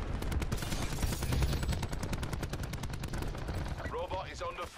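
Rapid automatic gunfire from an SMG and other weapons in a Call of Duty Black Ops 4 Safeguard multiplayer match, loud sustained bursts of dense repeated shots throughout, with game voice and player talk mixed in near the end.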